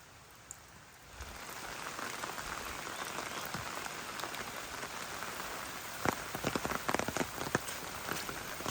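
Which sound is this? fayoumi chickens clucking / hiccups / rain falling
rain falling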